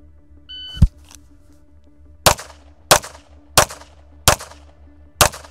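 Five sharp pistol shots from an Atlas EOS fired strong hand only, spaced roughly evenly at close range, preceded by a shot-timer beep.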